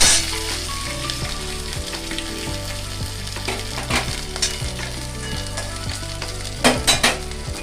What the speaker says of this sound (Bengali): আদা বাটা দেওয়া হলো দিয়ে খানিক্ষণ এটাকে ভাজবো নেড়ে নেবো অল্প আঁচে